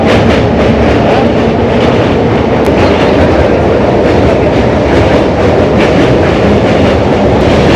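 A Naihati-Bandel local train rolls away from Naihati Junction toward the Jubilee Bridge, a loud, steady roar of wheels and carriages with rhythmic clickety-clack from close inside the coach.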